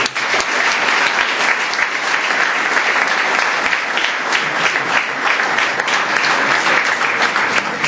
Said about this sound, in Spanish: yo un sincero aplauso y reconocimiento a